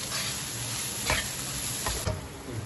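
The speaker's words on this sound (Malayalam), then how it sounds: "നന്നായി മൂപ്പിക്കാം" Turmeric powder and black pepper fry in a hot pan, giving a steady close sizzle with a few sharp spatula scrapes and stirs. No one speaks.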